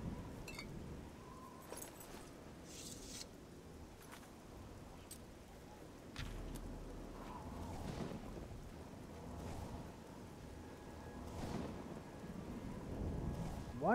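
Rain and thunderstorm weather in the video game Oblivion, around Leyawiin: a steady hiss of rainfall with low rolling rumbles underneath, moderately faint and continuous throughout.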